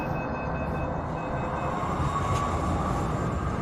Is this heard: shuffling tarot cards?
no